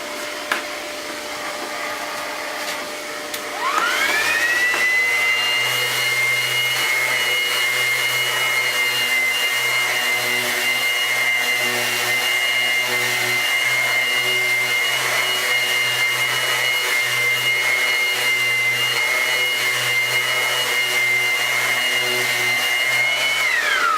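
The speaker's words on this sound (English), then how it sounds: "So, got my extractor on." In a woodworking shop, a dust extractor switches on and settles into a loud, steady roar with a high whine over it. It runs unbroken for about twenty seconds at close range, with no talking.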